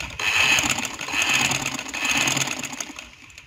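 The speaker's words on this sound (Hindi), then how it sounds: "डोरी बनाने के लिए सिलाई लगाएंगे सिर्फ हाफ पाउंड की इस तरह से।" A sewing machine stitches a cloth drawstring cord with the fabric pulled taut, a continuous fast mechanical whir rising and easing slightly, close and fairly loud, tapering off at the end without talk.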